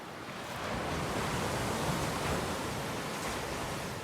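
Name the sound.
waves on a small beach cove in Corfu in winter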